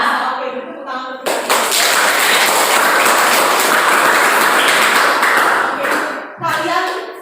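Students in a classroom burst into lively applause lasting several seconds, dense and close, framed by a teacher's speech before and after.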